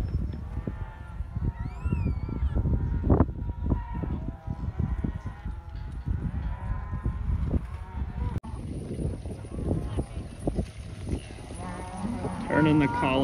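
Cattle on a farm low and moo as collared cows are turned out, calls rising over a steady outdoor rumble with occasional wind buffeting and distant voices.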